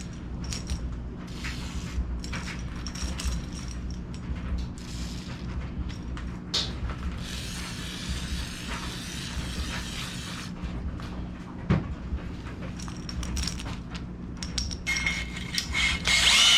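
Honing stone working inside a B-series engine cylinder, a steady grinding and scraping drone with ratchety mechanical texture and occasional clicks, close and continuous with no talking.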